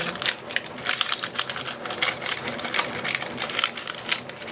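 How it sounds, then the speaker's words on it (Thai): Dense, irregular patter of heavy storm rain beats on a hard surface nearby, crackling in uneven bursts without pause. "เป็นเสียงแบบฝนตก"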